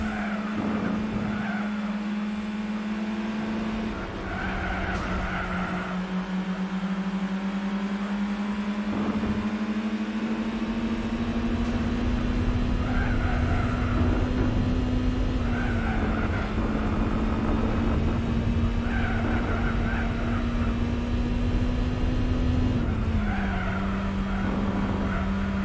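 Race car engines drone continuously in Gran Turismo 4, a steady high engine tone shifting in pitch as the car changes gears, with bursts of tire squeal recurring over the constant engine noise.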